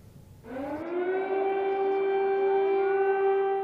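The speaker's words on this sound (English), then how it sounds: "The eerie sounds of sirens in Kyiv, Ukraine." An air raid siren in Kyiv, Ukraine rises and holds a long, steady wailing tone, loud and echoing, with no one speaking.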